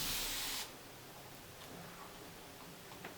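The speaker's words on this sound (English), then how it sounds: "part of doing a refresh is having a squirt bottle or a spray bottle" A spray bottle mists water onto hair in one loud, close hiss lasting about half a second, followed by quiet room tone with faint ticks.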